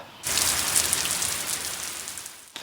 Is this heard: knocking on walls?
no